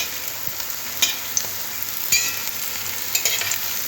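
Chops of mashed raw banana fry in hot oil, giving a steady soft sizzle with a few brief stirring or scraping clicks at intervals, heard alone without speech.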